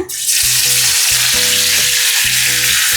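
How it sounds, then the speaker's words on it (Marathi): A sudden loud burst of sizzling as garlic hits hot oil in a heated kadhai, then a sustained, crackling fry close by. "कढई आपली तापलेली आहे तेल पण त्यात टाकलेलं आहे आता आपण लसूण टाकूया"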